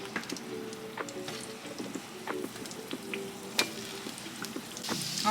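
Plantains fry in hot oil, giving a steady crackling sizzle with scattered sharp pops and spits close by, continuing throughout without any talking.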